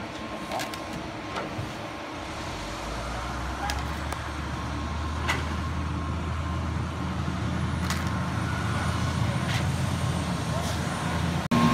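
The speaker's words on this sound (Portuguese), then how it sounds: "O outro caminhão chegando lá." Concrete truck pulling up at a house construction site in the United States, a steady low diesel engine rumble running throughout at moderate distance, with scattered clanks and faint voices in the background.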